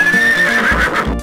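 A horse gives one loud, close whinny that rises and wavers before fading, with a couple of soft hoof clops beneath it.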